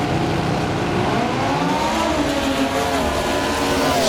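A Comp Eliminator drag racing car launches with a loud, continuous engine roar at a Rooftec Cash Clash event that rises in pitch as it accelerates, heard over a steady crowd and track din.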